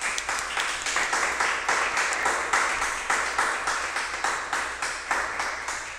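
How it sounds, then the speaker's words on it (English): Audience applause at a political gathering on reparations, a steady wash of many hands clapping that keeps going with gently pulsing loudness. "Uhuru, just give another round of applause."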